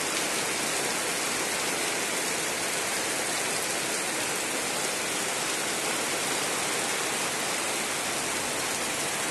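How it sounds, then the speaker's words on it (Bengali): Heavy rain pours down steadily over rural farmland, a dense, continuous hiss of drops on surfaces that stays at an even, fairly loud level from start to finish, with no voices or other sounds breaking through. "অনেক বৃষ্টি নামছে।"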